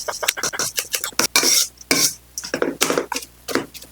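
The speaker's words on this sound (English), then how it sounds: "Mash it all together" Boiled potato stuffing with turmeric, chili powder, salt, roasted mustard seeds and green chilies being mashed and stirred in a bowl: close, irregular squishy thumps and scrapes of utensil on dish in quick bursts with short pauses.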